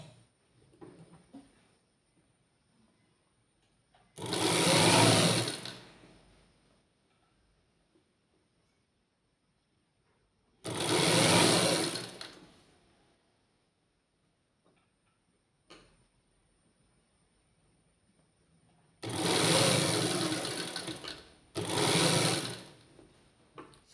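A sewing machine stitches a petticoat in four loud bursts of rapid stitching, each about one to two seconds long, separated by quiet pauses with faint handling clicks.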